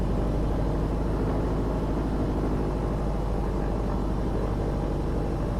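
Steady, unbroken drone of a Piper PA-28R Arrow III piston engine held at 1500 RPM in Microsoft Flight Simulator, a dense low rumble with no pauses or talk.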